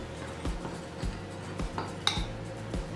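Flour and baking powder being mixed into cake batter in a bowl, with soft scraping and several light clinks of utensil against the bowl, faint and close, no talking.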